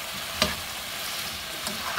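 Potatoes stir-fry with gochujang in a pan, giving a steady, close sizzle broken by a couple of sharper stirring scrapes, with no talking.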